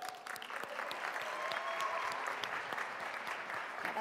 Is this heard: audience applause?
yes